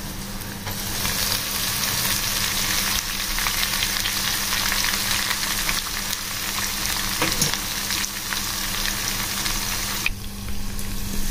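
Spices, including asafoetida and coriander, sizzle in hot oil as a tempering for raw mango dal: a steady, close, dense frying crackle that runs unbroken with no voices.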